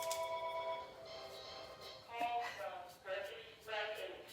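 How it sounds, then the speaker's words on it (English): A telephone rings in a home workshop during staining of a wooden stair riser, several electronic ring bursts in a row, moderately close, with a little talk alongside. "There goes the phone."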